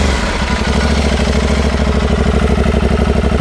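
Aprilia Tuareg 660 parallel-twin motorcycle idling through its stock exhaust, a close, steady, rumbling low-pitched pulse with an even throb and slight mechanical clatter, briefly blipped near the start.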